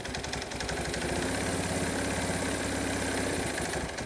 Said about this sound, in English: Can't believe this thing's sitting here idling.